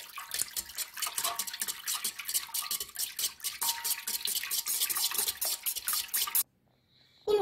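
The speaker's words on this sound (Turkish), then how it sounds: "Tekrar çırpıyoruz." A batter of yeast, sugar, oil and egg being whisked in a bowl, a fast, even run of wet scraping strokes, close and busy, that stops abruptly near the end.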